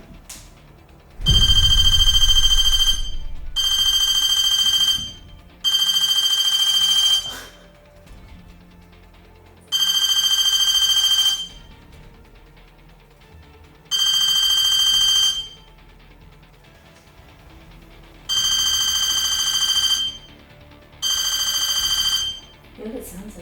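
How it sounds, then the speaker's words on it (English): Bursts of electronic telephone-style ringing in a supposedly haunted grave digger's cabin, seven loud trilling rings in irregular groups with quiet gaps and a thump near the start. "Maybe it sounds like a phone."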